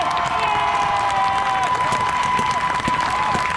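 Crowd cheering at an outdoor Black Lives Matter march in Rye, New York, with loud sustained shouts, whoops and clapping from many people and a sharp whistle tone early on.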